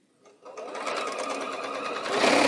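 A sewing machine stitches a quilt block, starting after a brief quiet moment and then running at a fast, even whir close by, growing slightly louder toward the end.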